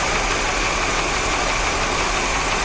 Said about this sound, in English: there's a very faint, I wouldn't call it a knock, more like a tick.